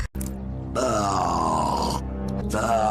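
A cartoon female character lets out a long, loud, voiced burp that stretches for over a second, preceded by a short grunt-like sound and followed by a brief gurgling tail, close and clear.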